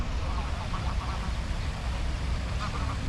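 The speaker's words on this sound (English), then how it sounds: "They're like massive ducks or small swans" Large waterfowl, something between big ducks and small swans, on water in Barcelona give a few nasal quacking calls in short bursts over a constant outdoor wash of background noise.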